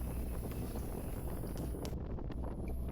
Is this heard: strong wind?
yes